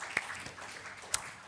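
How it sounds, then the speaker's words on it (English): Scattered audience applause greets a speaker at a digital narratives festival, soft, sparse clapping with a couple of sharper individual claps standing out nearby. "A big round of applause for Lavanya,"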